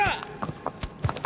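Horse hooves clip-clop in the video game Shadow of the Colossus, a few quick rhythmic hoofbeats heard under someone talking.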